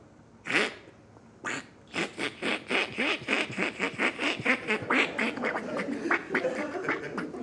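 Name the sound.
voice imitating a duck feed call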